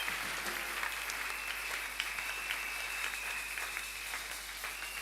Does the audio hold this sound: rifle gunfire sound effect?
no